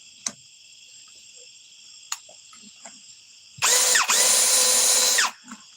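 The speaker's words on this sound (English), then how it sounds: "Let me just drill a bigger hole so I can get this thing in" A power drill whirs loudly for about two seconds with a brief dip mid-run, after a few scattered clicks and taps; a faint high hum runs throughout.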